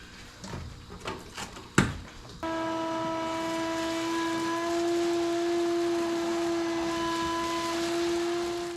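A few clunks and thumps inside the burnt-out interior of a fire-damaged VW Beetle give way to a vacuum cleaner starting up, which then runs at a loud, steady, humming whine.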